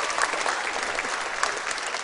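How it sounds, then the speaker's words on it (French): Studio audience of a television talent show clapping for a contestant, a brief, even burst of many hands applauding with no voices over it. "On peut l'applaudir, s'il vous plaît."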